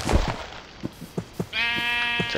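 A Minecraft sheep bleats in one sustained, wavering call near the end, preceded by several short dull thumps of punching in the game.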